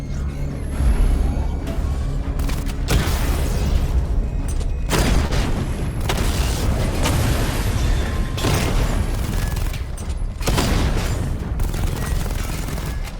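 In the Batman Arkham Knight video game, targets struck by a missile barrage erupt in a long, continuous run of heavy booming blasts, dense and loud throughout with repeated surges.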